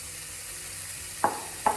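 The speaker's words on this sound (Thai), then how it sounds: "พอกระทะร้อนแล้วก็จะใส่3ชั้นลงไปเลย" Steady sizzle of pork belly frying in a hot dry nonstick pan without oil, with two short louder crackles near the end.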